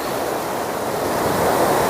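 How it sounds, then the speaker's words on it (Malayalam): Steady roar of sea waves surging and washing ashore at a river mouth where sea meets backwater, a broad continuous rush of water that swells slightly louder toward the end. "അപ്പോൾ കായലിലേക്ക് ആ കടൽ വെള്ളം പോകുന്നു"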